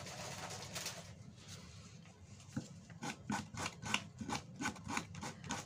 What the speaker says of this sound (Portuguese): É só ir lixando.